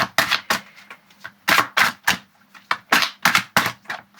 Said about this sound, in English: So I'll do one where it's just shuffling like this